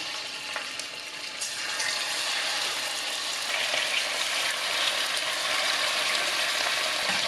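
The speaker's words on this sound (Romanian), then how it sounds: "Când s-a încins, adăugăm bucățile de carne." Pieces of meat go into hot oil in a large pot for goulash, giving a continuous, fairly loud sizzle and frying hiss that grows fuller after the first few seconds, with no talking.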